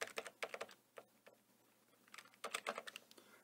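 Someone types on a computer keyboard in Microsoft Word, two short bursts of soft close key clicks separated by a quieter pause, with no voice.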